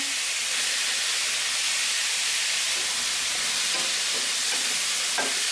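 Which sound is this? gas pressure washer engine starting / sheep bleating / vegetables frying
vegetables frying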